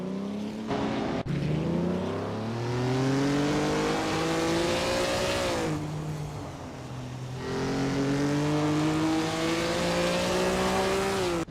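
A 1956 Maserati 450S racing engine in a racing video game, revving hard through rising gear pulls with a drop between shifts, loud and continuous with a faint tire squeal, no voices.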